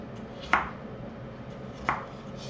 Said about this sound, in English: Cube our potatoes.